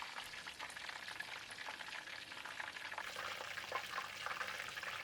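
Chicken wings fry in hot oil with a soft, steady crackle and sizzle, quiet and continuous, with small bursts of popping and no voices.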